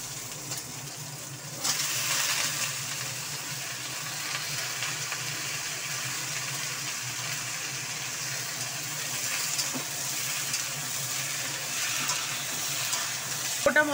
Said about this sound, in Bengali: এবার আলু আর বরবটি দুটোই একসঙ্গে তুলে দেব, দিয়ে পেঁয়াজের সাথেই একসাথে ভাজবো